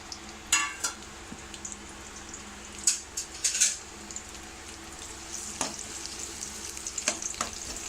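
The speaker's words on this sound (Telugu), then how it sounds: "ఆయిల్ హీట్ అయిన తర్వాత మనం ఆనియన్స్, చిల్లీస్ని, గ్రీన్ చిల్లీస్ని యాడ్ చేసుకుందాం" Onions and green chillies fry in hot oil, giving a steady crackling sizzle broken by sharp utensil clinks and stirring scrapes, with no talk.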